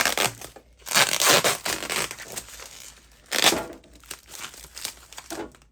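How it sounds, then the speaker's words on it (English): Packing tape rips and crinkles while a vinyl record box set is being unboxed, several loud tearing bursts separated by quieter rustling, close by with no talking. "I don't know if you can actually hear me while I'm ripping this tape"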